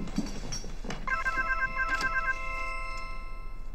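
A telephone rings indoors during a conversation, a few soft knocks and rustles leading into repeated bright electronic trilling bursts, close and clear, that stop after a little over a second.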